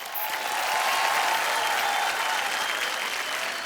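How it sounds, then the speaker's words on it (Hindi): Studio audience applause on a game show set, a dense steady wash of clapping hands lasting several seconds at even loudness with no voices over it. "तालियां।"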